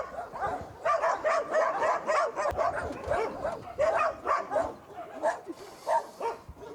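Many dogs bark in a Lviv animal shelter that houses about four hundred dogs. The barks and yips overlap in a dense, continuous chorus, fairly close, with a few whimpers mixed in.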